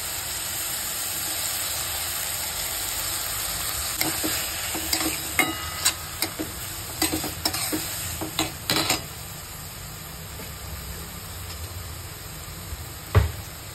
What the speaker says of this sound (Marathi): थोडंसं परतून घ्यायचं हे ठेचा, आणि लगेच मुगाची डाळ टाकायची